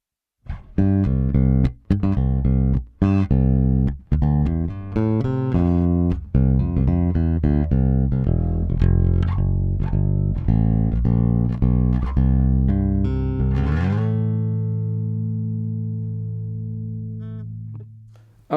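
A 1986 Steinberger XL2 headless bass played on its front pickup alone, with a string of plucked notes and riffs that finish on one sustained note ringing out and slowly decaying, heard clearly with no talking.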